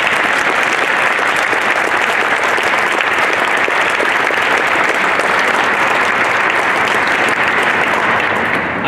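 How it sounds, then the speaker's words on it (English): An audience at an event for a leukemia research announcement applauds steadily, a full and even burst of clapping sustained for almost nine seconds. "So maybe we can just give a bit of applause to the government."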